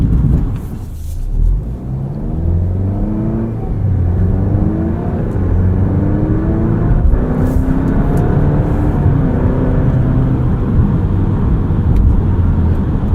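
A 2023 Alfa Romeo Giulia Estrema on the move, its engine loud and close as it revs up and shifts through the gears repeatedly, with rising and falling engine tones and steady road noise throughout.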